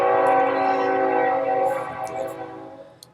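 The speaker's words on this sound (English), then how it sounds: "You can hear the train in the background." A distant train horn sounds in the background, a sustained, fading tonal blare that trails off over a few seconds.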